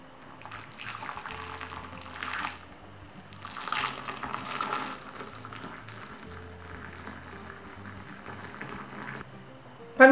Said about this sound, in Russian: Помидоры я надрезаю крест-накрест сзади и заливаю кипящей водой.